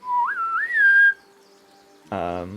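A high, rising and falling whistle sounds for about a second, followed by a gap of faint wind and then a second, lower voiced whistle-like tone with rich harmonics, set against a quiet wooded, wintry backdrop.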